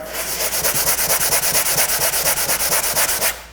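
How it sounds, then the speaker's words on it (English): Sandpaper rubs over dried primer on a drywall patch in quick, even back-and-forth strokes, a loud rhythmic scratching that continues steadily for several seconds before stopping. "I hit this with some sandpaper once it's dry"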